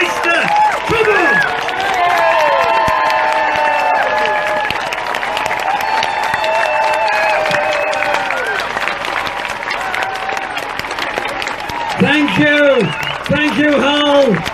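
At an outdoor political rally outside the Rose Bowl in Hull, a large crowd claps and cheers continuously, loud and close, with shouts and whoops rising above the applause and a speaking voice over it.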